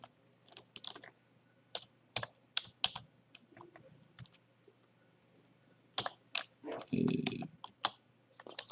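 Fingers tap on a computer keyboard in scattered bursts of crisp clicks, close and quiet, with a short flurry of quicker keystrokes toward the end.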